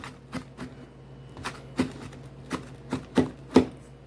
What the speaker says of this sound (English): I might as well chop up my herbs while I'm waiting